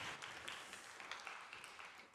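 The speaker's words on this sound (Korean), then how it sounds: "하나님께 영광의 박수를 해드리겠습니다." Church congregation applauding at a Wednesday worship service, a steady, even wash of many hands clapping at moderate volume throughout, with no distinct pauses.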